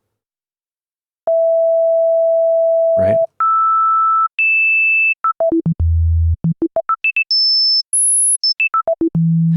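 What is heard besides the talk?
sine wave tone from a digital synth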